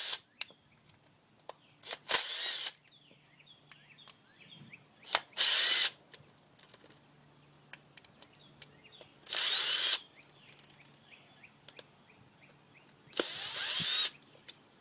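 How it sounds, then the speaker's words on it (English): Screws being backed out of a Yamaha 4x4 servo assembly with a power driver, four short whirring bursts spaced a few seconds apart, close and fairly loud, with quiet handling clicks between them. "Let's take my screws out."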